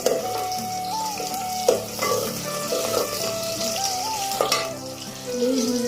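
Garlic, green chillies, cumin and a paste fry in a pan in a village kitchen, giving a steady crackling sizzle with a few sharper pops, alongside a faint background melody and no talking.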